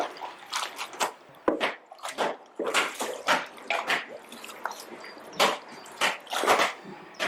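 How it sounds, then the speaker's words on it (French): Washerwomen beat wet laundry with a wooden paddle, producing a string of dull, irregular slaps amid splashing and lapping water. "le bruit mat et répétitif du battoir, les éclaboussures et le clapotis de l'eau."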